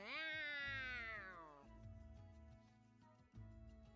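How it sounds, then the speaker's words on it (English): Giant cat in a video game giving a long, loud drawn-out meow that glides upward in pitch, followed by quieter game background sounds. "A beam of light flashes and a giant cat appears before you."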